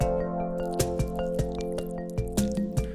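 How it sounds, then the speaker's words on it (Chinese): Shrimp paste mixed with salt, pepper and starch is stirred hard in a bowl, giving steady wet slapping squishes at a regular beat over a continuous tonal background. "用刀背剁成虾蓉， 加盐、胡椒粉、淀粉，搅拌上劲，"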